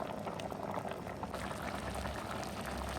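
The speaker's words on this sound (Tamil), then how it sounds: "கொஞ்சமாக உப்பு போட்டு அவிய வைக்கிறேன்" Rasavalli tuber simmering in lightly salted water, a quiet steady bubbling and hissing of boiling liquid, close by and without talk.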